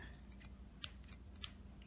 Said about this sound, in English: what these are is they're folding scissors. You pull out,